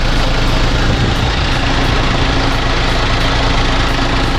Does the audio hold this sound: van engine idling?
yes